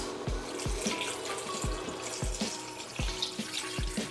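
Water poured into a cooking pot of meat with bone marrow, a steady splashing and trickling wash with regular low knocks beneath it, with no voices.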